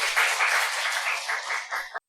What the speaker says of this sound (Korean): 우리 하나님 박수 올려드립니다.